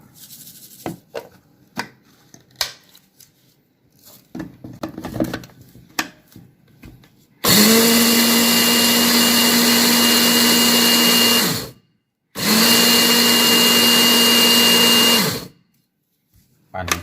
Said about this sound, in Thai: เครื่องปั่นเลยครับ